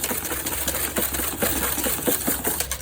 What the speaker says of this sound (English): as soon as you add your lemon, you need to whisk.